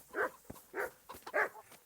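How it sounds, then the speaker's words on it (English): Dogs in the video game Kingdom Come: Deliverance bark three times in a row, fairly close and clear, each bark separated by short pauses. "So we're going to go get them barking"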